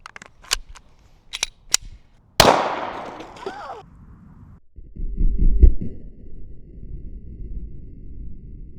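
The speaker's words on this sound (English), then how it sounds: "Moving up to 10mm, shooting some 200 grain full metal jackets." A 10mm pistol firing 200 grain full metal jacket rounds outdoors, several sharp close shots in quick succession followed by one louder report with a long decaying ring, then lower rumbling handling noise.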